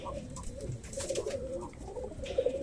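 Pigeons coo softly inside a clay pigeon house during hot weather, a few low, rolling calls close by over faint background noise.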